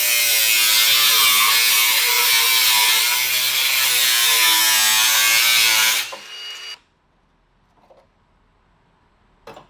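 Car body steel being cut with a power tool on a vehicle under repair for rust, a loud continuous grinding whir for about six seconds that abruptly stops, leaving near silence with a few faint knocks.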